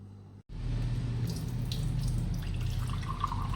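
Water runs steadily through a 0.3-micron filter fitted onto a tap, a continuous close rushing splash that starts abruptly after a brief gap and keeps flowing alone.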